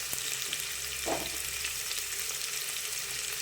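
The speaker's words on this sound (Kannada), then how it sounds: "ಈರುಳ್ಳಿ ಎಲ್ಲ ಚೆನ್ನಾಗಿ ಫ್ರೈ ಆಗಲಿ" Onions and bay leaf fry in a pan for khichdi, a steady close hiss of sizzling oil with a faint stir partway through.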